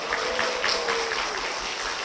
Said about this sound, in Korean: 한번 박수 부탁드리겠습니다.